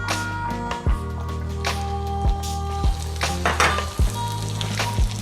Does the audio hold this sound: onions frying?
yes